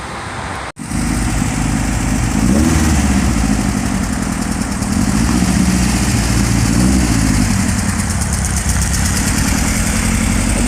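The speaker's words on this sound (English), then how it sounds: "The muffler is bad, make a noise." An engine with a bad muffler idles loudly and steadily at close range, with a rough, raspy drone holding continuously after a brief cut at the start.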